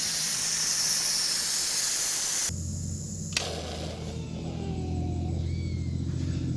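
A pressure cooker pot full of chili vents steam in a loud continuous hiss that cuts off abruptly partway, leaving a lower rumbling hum afterward.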